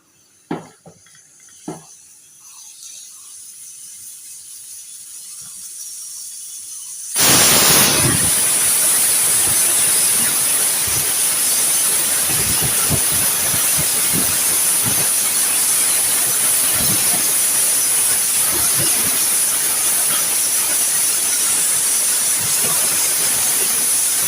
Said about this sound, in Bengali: ঘি দিয়ে দিলাম ঘি দিয়ে ভেজে নিই